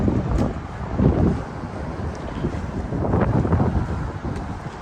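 Wind blowing outdoors in a side yard at a Lake Havasu home, buffeting the microphone in a continuous low rumble that swells and eases in gusts with no speech.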